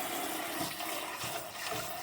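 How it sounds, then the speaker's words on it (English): Water from a kitchen faucet sprays and spouts steadily while rice is rinsed in the sink, a continuous loud hissing rush with no talking. "Look how much the water's spouting on the other side."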